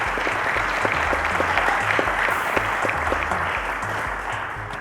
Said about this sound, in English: A round of applause to Stephen, ladies and gentlemen.